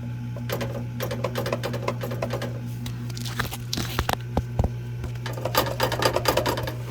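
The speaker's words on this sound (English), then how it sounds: "That's a radiator bouncing." A loose radiator bouncing on a three-million-mile Freightliner truck makes fast, irregular metallic rattling and clicking over a steady low engine hum, with sharper knocks clustering toward the end.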